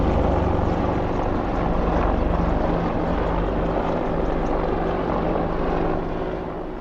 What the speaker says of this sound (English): is an awful lot of helicopters going over today